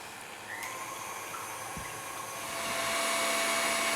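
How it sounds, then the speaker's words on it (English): Egg whites being whisked with sugar for a pavlova meringue, most likely with an electric mixer, giving a steady whirring hum that swells slightly louder toward the end, with no talking. "I'm going to start whisking."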